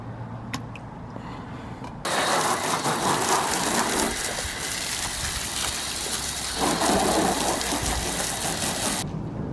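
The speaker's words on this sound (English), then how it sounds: "it started raining" Rain starts suddenly after a quiet moment and then falls steadily and loudly onto a freshly washed Nissan Fairlady 300ZX and its surroundings, a dense hiss that swells and eases slightly without any talk.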